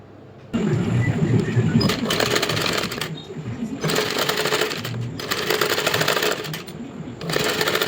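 A sewing machine stitches the border of a silk saree blouse in loud, rapid mechanical bursts, several runs separated by short pauses, close up.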